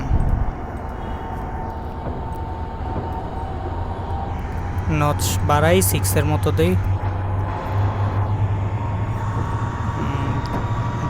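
A Teesta Express train in a Train Simulator game pulls away slowly, a steady low engine rumble and rolling noise under continuous talk, with a brief burst of horn-like tones in the middle.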